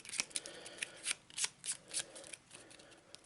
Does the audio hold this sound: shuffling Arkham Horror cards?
yes